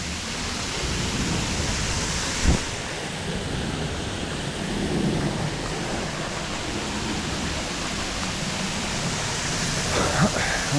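Broadband rushing water from a small but pretty waterfall at Millikin Falls in Quarry Trails Metro Park, a steady even roar filling the scene throughout with no talk.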